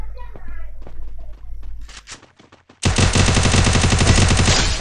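Gunfire in the Free Fire video game: a rapid run of close single shots, a brief lull, then a loud sustained burst of automatic fire that fills the rest of the moment, with a player talking over the game audio.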